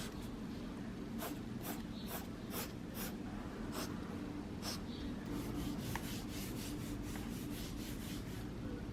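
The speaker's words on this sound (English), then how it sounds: "So this is the clip of me actually drawing on with a pencil." A pencil scratches and scrapes across an iPad Air glass screen while sketching, giving repeated short strokes with pauses in between, close and fairly quiet with no voices.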